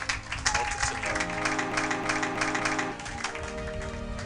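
A church congregation claps steadily for the glory of God, a dense patter of many hands over sustained music, continuing from start to finish at moderate loudness.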